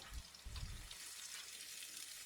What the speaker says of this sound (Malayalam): നമ്മൾ ഒരു 2 വലിയുള്ളി നൈസായിട്ട് കട്ട് ചെയ്തത് ഇതിലേക്ക് പൊരിക്കാൻ വേണ്ടിയിട്ട് ഇട്ട് കൊടുക്കുക.